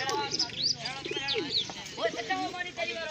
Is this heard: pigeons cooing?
yes